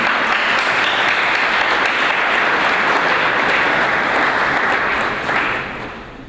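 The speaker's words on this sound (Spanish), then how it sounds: "recibamos con un fuerte aplauso" Audience applause at an academic presentation in Puebla, a steady dense wash of many hands clapping that holds loud and even, then tapers off over the final second.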